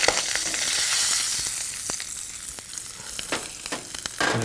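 Minced ginger and turmeric frying in ghee in a shallow pan, a loud steady sizzle up close, broken by occasional sharp clicks and scrapes of stirring.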